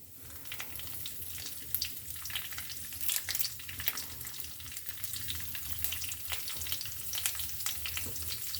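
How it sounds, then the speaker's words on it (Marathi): Urad dal and curry leaves crackle and sizzle in hot oil for Udupi-style upma, a steady close spitting hiss with small popping bursts and no talking. "एक चमचा उडीद डाळ घातलेले कढीपत्ता"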